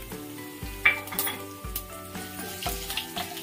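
Mustard seeds, cumin and urad dal sizzle in hot oil in a pan, a crackling fry punctuated by regular clinks and knocks of a utensil stirring the pan, with no talking.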